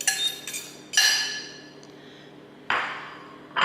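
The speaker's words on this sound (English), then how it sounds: "I'm going to take my 6 yolks, put them in a bowl," Six egg yolks dropped from a container into a bowl for basic deviled eggs, giving several bright clinks of glass or ceramic, a quick cluster at the start and another knock near the end, close and alone.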